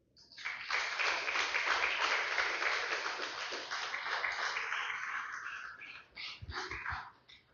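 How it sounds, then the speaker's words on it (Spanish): A church congregation applauding during a Spanish-language service: a dense burst of hand clapping for several seconds that thins into scattered claps at the end. "Un fuerte aplauso al Señor, aleluya."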